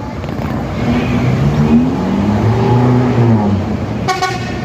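An MPM bus rolls into the Baraya Solok terminal with its engine rumbling close and loud, then gives a sharp horn blast near the end.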